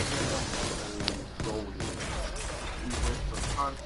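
Gunfire in the shooter game Destiny 2, with rapid bursts and single shots crackling over a busy game soundscape, a voice talking over part of it.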